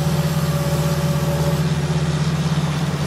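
A brand-new tractor idles in Farming Simulator 19, its engine giving a steady, even low rumble that stays constant and close throughout with no voices over it.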